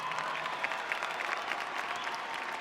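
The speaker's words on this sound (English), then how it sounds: "So if we could give those seniors a big round of applause" Steady applause from a large audience honours seniors at the 2011 Stevenson High School graduation, a dense, even wash of clapping heard from some distance that continues throughout.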